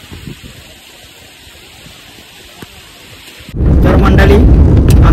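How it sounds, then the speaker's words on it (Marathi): Heavy monsoon rain with thunder near Raigad Fort in Maharashtra; after a quiet stretch of soft ambient patter, a loud, dense roar of downpour suddenly sweeps in and holds steady to the end. "कसा पाऊस लागलेला आहे."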